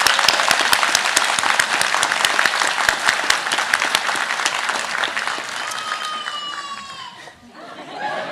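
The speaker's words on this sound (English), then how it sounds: "So a round of applause for you." Loud, sustained applause from a large audience at a college nursing pinning ceremony, dense clapping with some cheering and laughter, tapering off near the end as a voice starts to speak.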